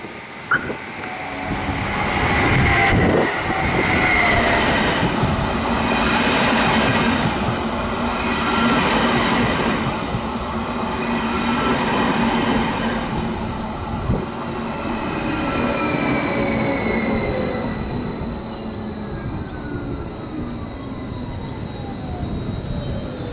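A train rolls into Dunaharaszti station, Hungary, with a steady rumble of wheels on rail, high metallic squeals and brake hiss rising over the noise, close by and loud throughout.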